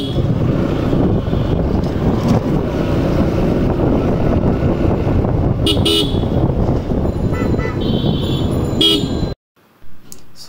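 Motorbikes riding along busy Sadar Road in Barisal city at night: loud steady engine and road roar with wind buffeting, scattered horn toots over the top, cutting out abruptly near the end.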